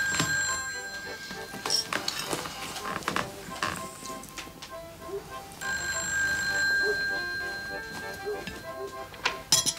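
A telephone bell rings in repeated bursts over a busy, cluttered background with faint voices.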